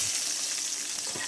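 Panch phoron spice seeds and dried red chillies sizzle in hot oil for a bottle gourd fry, a steady close hiss with faint crackles throughout and no voices.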